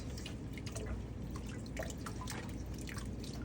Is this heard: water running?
yes